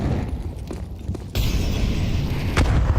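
A grenade goes off in a Counter-Strike match, a heavy low boom rolling under the game's other noise, followed by a sharp burst about halfway through and a second crack near the end.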